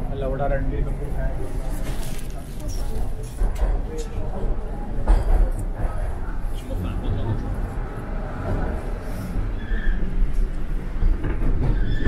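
A Toronto subway train with open gangway cars rumbles steadily along the track near Summerhill Station, wheels rattling, while people talk over the constant low roar of the busy carriage.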